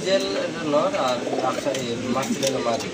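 Grizzle pigeons coo in soft, repeated throaty phrases close by, while someone talks over them throughout.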